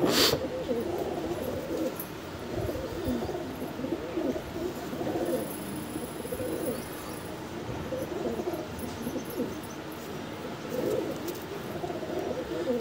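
Andhra breed pigeons coo softly and repeatedly in a steady, close-by chorus, with a low murmur of bird sounds filling the background throughout.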